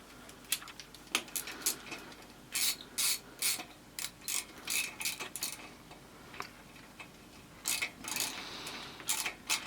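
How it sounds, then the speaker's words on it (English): A ratchet spins in quick bursts of clicking as a part is tightened back up during a roadside repair of a broken-down vehicle, the irregular clicks close and fairly quiet against a low background hum. "Let's tighten this back up."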